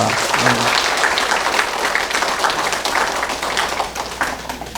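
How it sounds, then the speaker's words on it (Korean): A church congregation claps in thanks during a Parents' Sunday service, dense loud applause sustained throughout, close and full, with a brief voice near the start. "우리 큰 감사의 박수를 보내드립시다."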